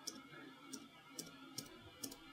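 Tab key on a computer keyboard pressed five times at an even pace, each a faint, crisp click over a low background hum.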